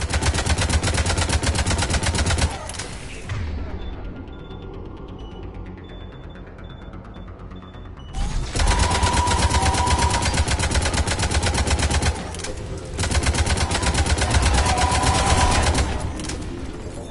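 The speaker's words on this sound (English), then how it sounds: "Harvesters firing on the Turians!" Harvesters fire on Turian troops during a Mass Effect 3 battle: loud bursts of heavy mechanical, rapid-fire clatter, a quieter lull in the middle, then renewed sustained firing.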